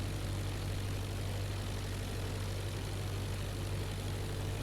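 A propeller airplane in the IL-2 flight sim drones steadily through a crosswind landing approach, a constant low engine hum with a broad airflow hiss, unbroken and fairly quiet with no talk.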